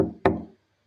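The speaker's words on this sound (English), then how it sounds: "When Salim knocks on his door." Two sharp knocks on a wooden room door, the second louder, each with a short resonant decay, close by and followed by silence.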